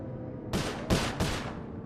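Three sharp gunshots fire in the Sly Cooper video game, spaced unevenly about a third of a second apart, loud and close over a low game ambience, with no talking.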